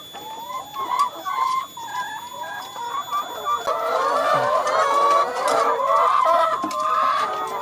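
Laying hens in a chicken coop on a farm clucking and squawking continuously, many birds close by, the noise swelling louder and denser midway, with no one speaking.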